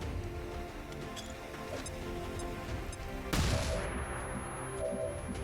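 A flashbang grenade goes off in XCOM 2: Long War of the Chosen, one sharp broadband burst midway through with a hissing tail. It stands over a steady bed of game ambience and light clicks.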